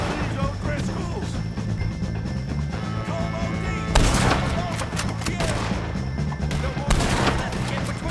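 Gunfire from a shootout in the video game Red Dead Redemption 2, with repeated loud shots and heavy blasts under shouting voices and game music.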